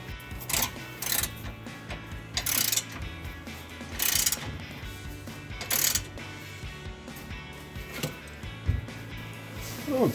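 Ratcheting on an exhaust clamp of a C&L Sport axle-back on a 2011-2014 Mustang V6, several short bursts of close, loud metallic clicking spread across the stretch, with quieter mechanical handling between them.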